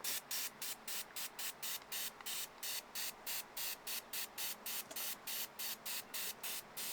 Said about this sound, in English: I'm going to put a little bit of WD-40 on there, rub it in a bit